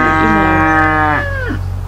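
A single loud, close cow moo from cattle in a field beside an outdoor cooking spot, a long drawn-out low call that bends and fades near the end, with no talk.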